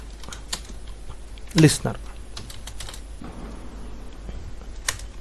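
Sparse, close clicks of code being typed on a computer keyboard, a few separate keystrokes and one louder cluster, under a faint spoken word.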